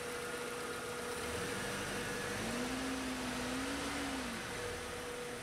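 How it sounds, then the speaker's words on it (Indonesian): A Suzuki Zebra Espass car engine runs steadily and then revs briefly, its drone rising and falling in pitch before settling again, under a constant broadband hiss with no voices. "Bentar saya gas."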